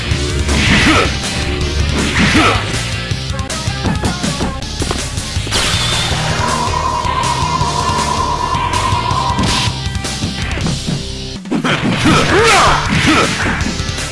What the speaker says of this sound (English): Ionic explosion!